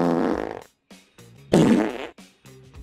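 Two loud, buzzy cartoon fart sound effects, the first long and wavering, the second after a brief gap, followed by short sputtering bursts, with no talking.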